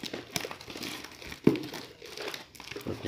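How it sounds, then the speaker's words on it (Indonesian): Duct tape crinkles and tears while helmet foam padding is being replaced, a quiet, close crackling texture broken by one sharp louder rip midway, with soft handling noises around it. "Teman-teman bisa tambahkan lakban yang agak banyak agar lebih kuat ya."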